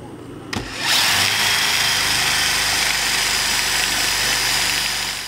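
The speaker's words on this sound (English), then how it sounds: "Now I'm going to cut out the hole for the brace dowel." A power tool starts with a click and runs steadily at a high-pitched whine while cutting a hole in wood, loud and close, holding constant throughout.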